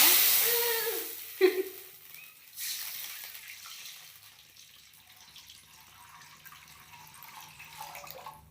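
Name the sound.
water poured into a pan of hot oil and mustard seeds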